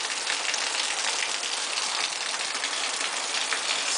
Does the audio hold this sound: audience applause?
no